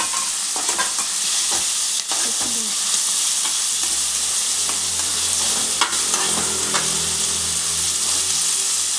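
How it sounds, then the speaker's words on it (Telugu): Chopped onions and mint frying in oil until golden for a fish curry, a loud, continuous close sizzle with occasional stirring scrapes and ladle taps against the pan. "ఇది మొత్తం గోల్డ్ కలర్ వచ్చేంత వరకు వేయించాలి"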